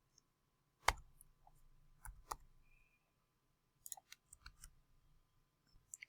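Sparse key clicks typed on a computer keyboard during C++ programming, a few isolated taps followed by a quicker cluster of light clicks, close and fairly quiet with no talking.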